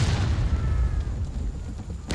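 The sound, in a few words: artillery cannon round exploding on bridge, from video game War of Rights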